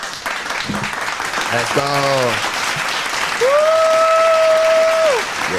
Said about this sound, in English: Generic ass claps be killing me.